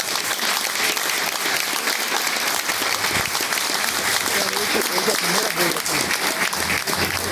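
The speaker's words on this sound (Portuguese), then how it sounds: "Vamos aplaudir o Senhor mais uma vez." Church congregation applause at an assembly inaugurating a newly independent church, a loud, sustained wash of clapping from a full room that holds level throughout, with voices murmuring underneath.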